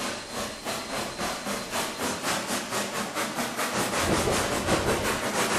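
C&O steam train pulling away in Trainz 2022, a steady rhythmic chuffing exhaust with hiss, repeating evenly and swelling slightly louder toward the end, with no talk.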